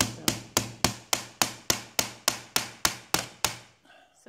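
Twelve evenly spaced hammer blows, loud and close, drive a bushing into a wooden stair tower, each strike ringing briefly before the next. A faint rustle follows the last blow.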